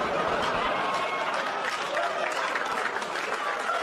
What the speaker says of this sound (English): Applause break on a joke I've never said before on my special.